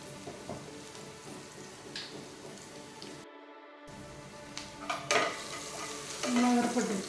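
Onions frying with a little salt in a pan on a home stove, with a steady sizzle and occasional spoon scrapes and stirring clatter, closer and louder toward the end.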